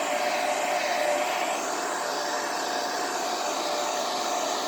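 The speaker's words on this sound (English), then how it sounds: "And then we just add our hairdryer and we watch the bubbles pop." A hairdryer blows steadily on poured paint, a close, constant whooshing hum with a faint tonal whine, unbroken and alone throughout.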